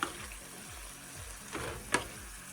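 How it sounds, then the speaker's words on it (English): Cabbage, onions and celery sauté in a pan, a faint sizzle under a few scraping stirs of the utensil, with a sharp clink near the end. "you just want to saute this for a couple minutes and then it's ready to serve"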